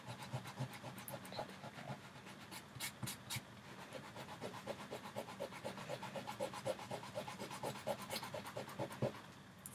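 Fingers rub damp paper fibres off an acrylic medium image transfer in a quiet run of soft, rhythmic scrubbing strokes, close and faint, with no talking.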